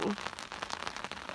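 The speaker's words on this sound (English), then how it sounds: "I'm just sitting here in the rain under my tarp, eating." Soft, steady patter of rain drumming on a tarp overhead in the Canadian wilderness, faint and continuous with scattered louder drops.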